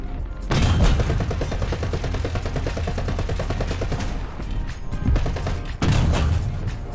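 Ram medium tank cannon shots and heavy battle noise in War Thunder, loud and dense, with big booming blasts near the start and again late, over sustained rumbling gunfire.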